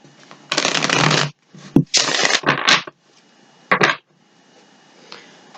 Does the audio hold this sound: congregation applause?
no